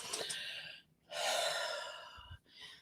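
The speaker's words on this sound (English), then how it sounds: "the reason that you'll hear me breathing, I'm not having an asthmatic episode here" Deep, slow breaths drawn in and released close to the microphone, two long airy inhales and exhales with a short pause between, and no talking.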